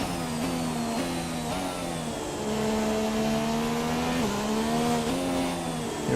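A Formula 1 car lapping Silverstone in the video game F1 2017, its high engine note whining steadily and stepping through gear shifts at speed, close and loud with no talking.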